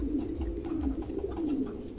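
A large Jacobin-type domestic pigeon coos in low, soft, repeated rolling calls, close by and fairly quiet, with no talk over it.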